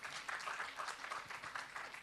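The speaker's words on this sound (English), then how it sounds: "So a big round of applause" An audience at a psychiatry session of a medical conference at AIIMS Bathinda applauds steadily, a dense patter of many hands heard fairly faint and somewhat distant, with no talk over it.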